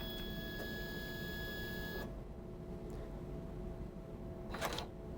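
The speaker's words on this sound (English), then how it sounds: "close the printhead, and repeat the feed calibration label calibration step." A Brady i7500 industrial label printer runs its feed calibration: a steady mechanical whir with high tones for about two seconds, then a quieter hiss and a brief clack near the end.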